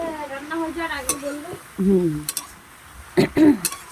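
A spoon scrapes and clinks against a cooking pot of mixed vegetables for a vegetarian curry, a few sharp knocks standing out over a soft sizzle while someone talks.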